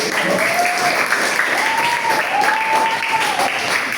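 A classroom group applauds a student group after a presentation in a Pancasila civics lesson, a steady wash of clapping that fills the whole span, with faint tonal voices rising over it.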